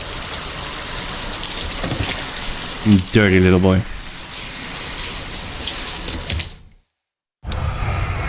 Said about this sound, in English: Again, cold shower.